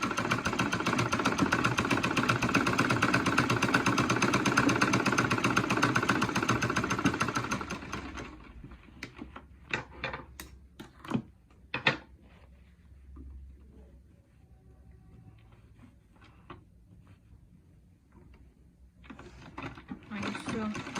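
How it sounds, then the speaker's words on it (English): A pedal-operated treadle sewing machine runs steadily through fabric with a continuous, close mechanical whir. It stops abruptly partway through, leaving scattered clicks and handling noises before the whirring resumes faintly at the end. "Then you place your hand on your hand wheel and you pedal"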